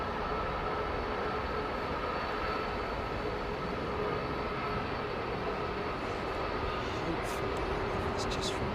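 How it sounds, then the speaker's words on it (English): A British Airways airliner bound for Tokyo departs Heathrow Airport, its steady engine roar loud and continuous throughout, with people talking underneath. "BA 350 out to Tokyo is making its way out for departure."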